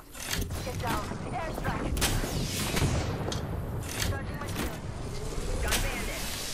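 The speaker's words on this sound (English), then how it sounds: "Airstrike." Airstrike explosions in a video game: several booms and blasts roll out with crackling, gunfire-like bursts in between, while a player talks over the steady rumble.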